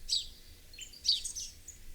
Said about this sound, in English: the bird responds, chirping its call which flows about the still office